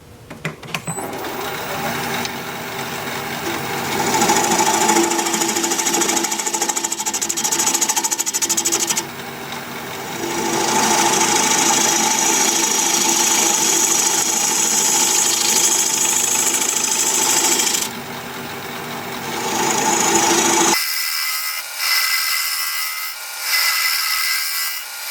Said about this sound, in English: And for that, I will use a 1/2 inch bowl gouge.